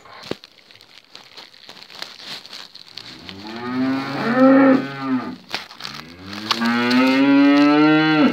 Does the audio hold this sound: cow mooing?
yes